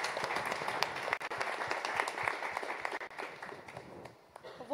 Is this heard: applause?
yes